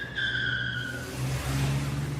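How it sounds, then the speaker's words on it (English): A car pulls away fast with tires screeching, a short high squeal over the engine's rising roar, close and fairly loud. "he rolls up his window and speeds off, tires screeching"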